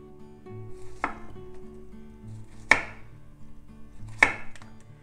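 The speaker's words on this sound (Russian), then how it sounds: "Сперва я нарезаю кабачок тонкими кружочками" A knife slices a zucchini into thin rounds on a board with three crisp chopping taps spaced apart, each followed by a short scrape, in a quiet kitchen.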